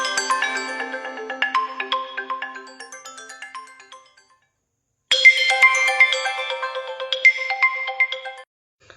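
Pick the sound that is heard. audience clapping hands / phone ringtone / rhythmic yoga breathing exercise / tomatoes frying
phone ringtone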